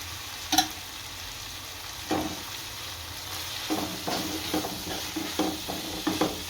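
Green onion curry being stirred with spices in a pan, giving a steady low sizzle broken by a series of scraping stir strokes that grow more frequent toward the end, close and fairly quiet, with no voices.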